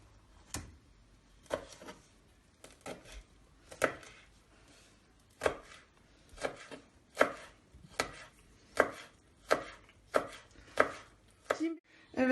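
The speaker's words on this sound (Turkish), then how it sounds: "Onları da ince ince doğrayıp içerisine ekliyoruz" A knife chops chili peppers finely on a cutting board in slow, regular strokes, about a dozen crisp close-up thuds with pauses between them.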